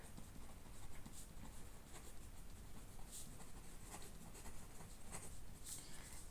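Pen scratching steadily across paper while math equations are written out during a class 10 lesson, a faint continuous scribble with soft irregular strokes and a few brighter ticks, no talking.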